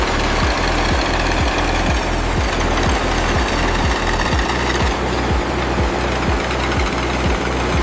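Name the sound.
oil drill boring through rock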